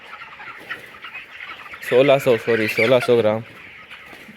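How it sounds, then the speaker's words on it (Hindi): A rooster on a poultry farm gives a burst of harmonic clucking calls, loud and close, lasting about a second and a half amid low farm background, with someone speaking briefly. "ये देख लो, ये मुर्गा है"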